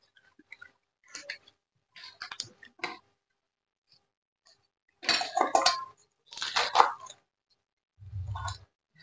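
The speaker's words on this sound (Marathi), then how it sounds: "तर आपण अगोदर ह्या सर्व अशा भाज्या चिरून घेऊया." A knife finely chopping a bundle of wild leafy greens on a board, heard as short clusters of crisp, rapid cuts separated by pauses, with a dull low thump near the end, close and quiet.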